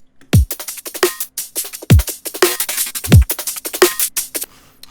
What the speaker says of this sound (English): And then the drums as a whole sound like this.